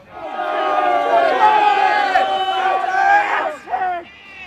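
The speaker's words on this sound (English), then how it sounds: "Every time a delegate arrives in their limousine, a great shout goes up from the crowd." A protest crowd shouts loudly in unison as a delegate's limousine arrives at the main gates of a Bilderberg meeting, voices rising and sustained for several seconds before breaking off into scattered calls.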